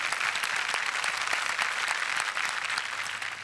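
A studio audience at a Marathi comedy show claps steadily and loudly, a thick, even wash of applause from a large crowd that eases off slightly at the end.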